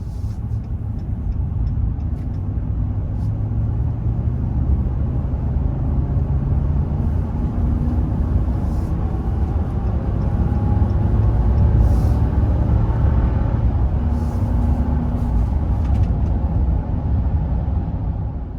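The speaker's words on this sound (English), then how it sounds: "Here we are driving the 2021 Ram Rebel." Steady, loud road and engine rumble from a new 2021 Ram 1500 Rebel Crew Cab 4x4 pickup merging onto a freeway under light throttle, a continuous drone that swells slightly midway with no talking.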